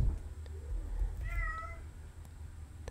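A house cat lets out one clear meow, moderately faint, heard alone over a low room rumble and background noise.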